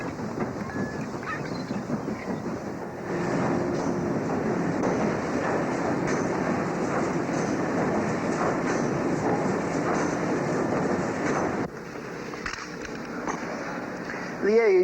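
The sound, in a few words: coal-burning steam train riding on rails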